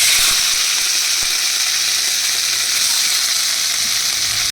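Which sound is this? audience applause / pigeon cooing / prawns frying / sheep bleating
prawns frying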